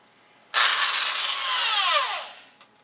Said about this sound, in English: I do that with a drill.